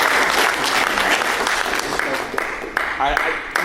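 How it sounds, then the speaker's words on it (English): An audience at a comic convention panel in San Diego bursts into loud applause, steady dense clapping with a few cheers, fading slightly toward the end. "A big round of applause for Hayden Sherman."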